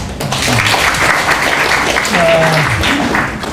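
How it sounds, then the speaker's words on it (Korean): An audience applauds at a public talk in Yeongcheon, Korea, with steady sustained clapping throughout and a faint voice mixed in. "박수를 드리겠습니다"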